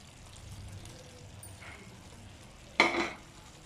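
Brinjal, onion and peanuts are stirred in a pan for kathrikai thokku, with a faint low sizzle throughout and one loud metallic scrape of the spoon near the end.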